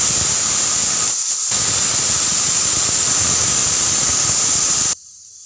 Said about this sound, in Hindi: देखिए कुकर की तीन सीटी आ चुकी हैं